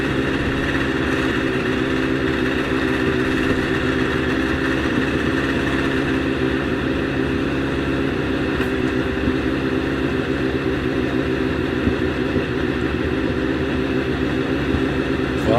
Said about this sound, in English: So Graham ticking over, just waiting while he goes through his launch procedure.